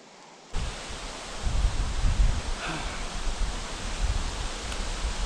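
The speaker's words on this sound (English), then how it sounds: "The wind is still blowing, and it's coming directly at the beach where I'm about to launch." Gusty wind blowing onshore at a lake beach in Quetico Park, a loud broadband rush with low buffeting rumbles against the microphone, near and continuous after a sudden start.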